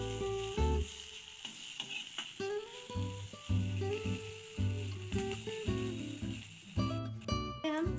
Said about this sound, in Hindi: देखिए यह भून चुका है सारा मसाला जो है हमारा।